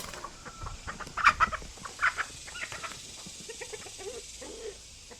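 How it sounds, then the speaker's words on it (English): Hens and roosters in a farmyard break into a short burst of loud, agitated clucking and squawking as one rooster chases another rooster's hen, then settle to softer scattered clucks nearby. "That was the other rooster chasing Batman's hen"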